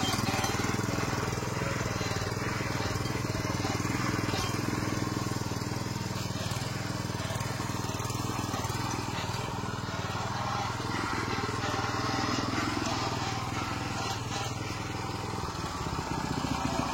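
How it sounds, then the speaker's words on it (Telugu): A Labdhi Arjun 7 hp power weeder engine runs steadily and loudly close by, a constant droning motor with a rattling mechanical edge that holds an even level throughout. "ఇంజన్ సౌండ్ చూడండి ఎంత స్మూత్గా వస్తుందో"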